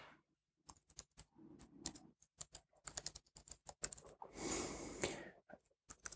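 Typing on a computer keyboard, close and fairly quiet, with irregular clusters of crisp key clicks, short pauses between them and a brief denser rattle of keystrokes near the end.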